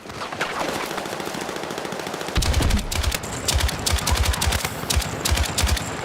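LMG firing in Battlefield 6: after a quieter stretch, loud, close bursts of rapid automatic fire with sharp punchy shots, repeating in short volleys separated by brief pauses.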